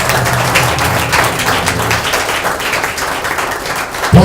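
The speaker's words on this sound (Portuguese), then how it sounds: "Dê uma salva de palmas para Jesus" Congregation applauding at a Pentecostal church service, a broad wash of clapping held steadily at one loudness throughout, with a deeper low rumble in the opening two seconds and a brief bump of sound at the very end.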